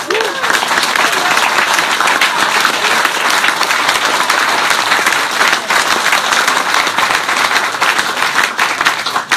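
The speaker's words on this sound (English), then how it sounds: "can everyone just give a round of applause to anyone in a yellow shirt?" A crowd applauds loudly and steadily, dense clapping filling the whole stretch without a break.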